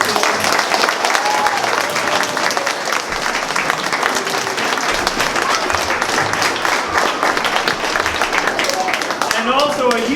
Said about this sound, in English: One more round of applause for the actors.